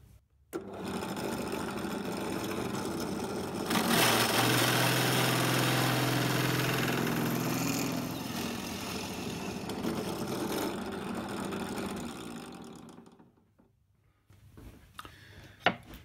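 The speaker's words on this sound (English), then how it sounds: "Now I've got the 8mm bit in here and we're just going to make these larger." A power drill with an 8mm bit enlarging earlier holes in a Mercedes Sprinter camper van bed frame, a steady loud whir for about twelve seconds that rises partway through and then stops, followed by a few faint knocks.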